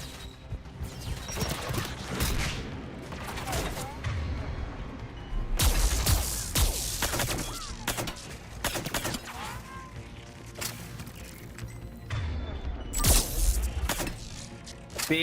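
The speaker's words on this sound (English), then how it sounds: "Thank you for shooting me in the face." Sustained gunfire in the video game Mass Effect 3, enemies shooting at the player: dense bursts of shots and loud impacts crackle throughout, with mechanical clanks and some heavier blasts mixed in.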